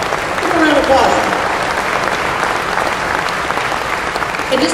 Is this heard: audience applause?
yes